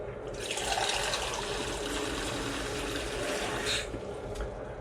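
Cold water runs from a kitchen tap in a steady, splashing hiss that stays even for several seconds before easing slightly.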